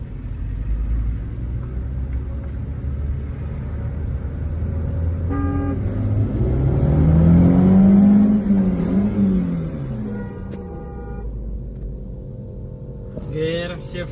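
Ford Figo 1.2 and Hyundai Santro Xing 1.1 hatchbacks accelerating in a drag race, engine drone building through the gears with a rising pitch sweep near the middle, a short horn toot and voices in the background.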